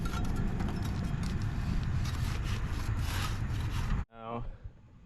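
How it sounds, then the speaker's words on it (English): A hand scraper rasps repeatedly against the underside of a Wright Stander I 36 mower deck, a loud, close, continuous scraping that stops abruptly near the end, followed by brief faint knocks. "Go ahead and get your scraper. Start scraping away."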